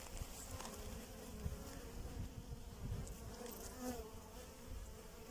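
Honey bees buzzing around a hive during spring feeding time, a dense continuous hum of many insects close by, steady and fairly quiet with no voices.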